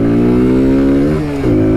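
A Kawasaki Z125 Pro motorcycle accelerates hard up close, its small engine revving as a loud steady drone that climbs in pitch, then dips briefly at a gear change before pulling again.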